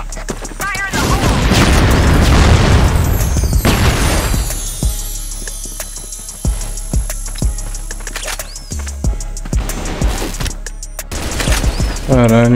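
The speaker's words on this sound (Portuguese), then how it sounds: "Granada. Fire the hole." A grenade blast in the online shooter CrossFire: a loud boom opens amid heavy gunfire, followed by scattered shots, impacts and clattering effects, with a voice speaking over parts of the action.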